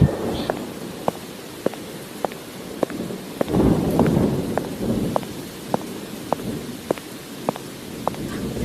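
Heavy rain falls steadily with a dense hiss and regular sharp drips, while a low thunder rumble swells midway; no voices are heard.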